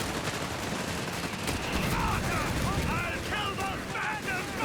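Battle sounds from Company of Heroes 3 with mortar fire amid a steady din of gunfire and booming impacts, loud and continuous, with chirping effects layered over the combat noise.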